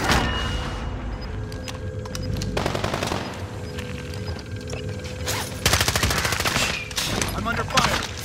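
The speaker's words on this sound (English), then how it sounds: "I'm under fire." Machine-gun fire rattles in Call of Duty Modern Warfare, loud rapid bursts coming in repeated volleys with short pauses, over a steady background hum and some faint game sounds.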